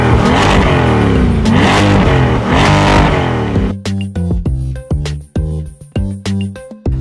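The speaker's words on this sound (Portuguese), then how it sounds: "ele fala que vai mostrar para ela o ronco do motor" A car engine revs hard and loud up close in several rising sweeps, then cuts to a run of sharp, choppy blips with short gaps between them, and no one speaks.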